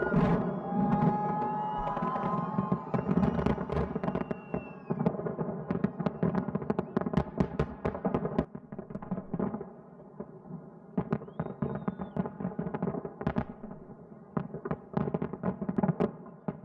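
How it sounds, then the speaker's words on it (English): Fireworks at a celebration in Russia crack and thump in rapid irregular bursts at moderate distance, with dense volleys and scattered single pops continuing throughout. "Oh, I'm not gonna lie, the fireworks are nice"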